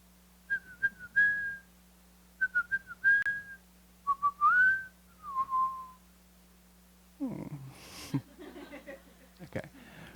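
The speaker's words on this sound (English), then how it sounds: "I finally learned how to whistle like you." A person whistles short melodic phrases, several rising and wavering notes in separate bursts, clear and close, then speaks briefly afterward at a poetry and storytelling event.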